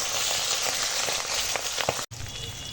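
A catla fish head fries in hot oil, producing a continuous close crackling sizzle with small pops, briefly cut off near the end before resuming; no talking.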